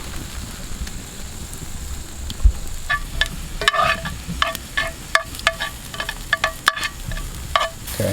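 Steak fillets sear with butter and garlic over an open fire, giving a soft steady sizzle with scattered crackles and pops, a few sharper clicks near the end, faint wind-like background.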